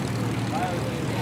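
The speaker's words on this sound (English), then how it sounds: "And the sound of the Kestrel when it's on the ground." Rolls-Royce Kestrel engine of a Hawker biplane running on the ground at an air show, a loud, steady droning roar with continuous low rumble and faint background voices.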